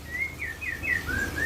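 A white-rumped shama (murai batu) gives a run of clear, high whistled chirps, about six quick rising and falling notes in a row, close by over low background hum.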